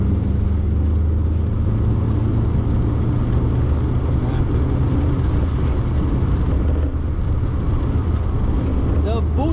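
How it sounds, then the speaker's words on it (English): A Toyota MR2 twin-turbo car accelerates with a loud, continuous low engine roar and heavy rushing wind and road noise inside the cabin, sustained throughout without a break. "The boost pulls, the turbos pull so easily that I don't even feel it"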